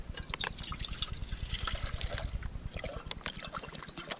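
Water is poured in a steady trickling stream outdoors on an early-winter Estonian bog, the splashing continuous and close for several seconds with no speech.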